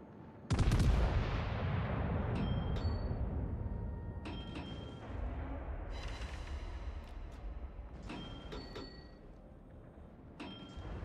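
Naval artillery from a warship in a naval combat game, the Dunkerque battleship: a loud deep cannon blast opens, then heavy booms and rolling rumble follow at intervals, with sharp metallic clanks between them.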